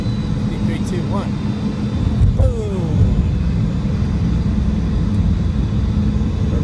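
A Hawaiian Airlines Boeing 717-2BL landing at OGG sends out a low, continuous engine rumble that swells into a stronger roar partway through, under a person talking.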